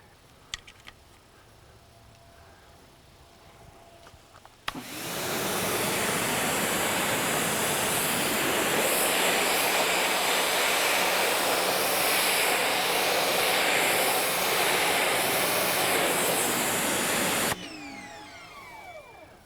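A 2,000 PSI electric pressure washer with a 15-degree tip sprays in a loud, steady rushing hiss that starts abruptly after a quiet lead-in, holds for about thirteen seconds, then cuts off sharply.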